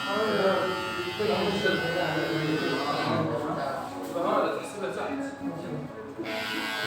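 Electric hair clippers cut a man's hair with a continuous buzz that runs under steady nearby talking.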